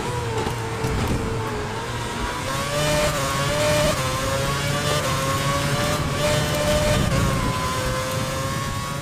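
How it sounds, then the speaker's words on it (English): High-pitched Formula One race car engines in the video game F1 2011 whine and rise in pitch at full speed, a continuous loud mechanical scream with shifting tones. "Formula One engines screaming at full speeds is just one of my favorite sounds on Earth."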